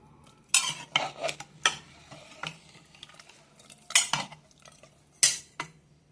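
A spoon stirs a pot of mutton curry with whole garlic cloves and potatoes, giving sharp, irregular clanks and scrapes against the metal over a faint simmer, close and unaccompanied by talk.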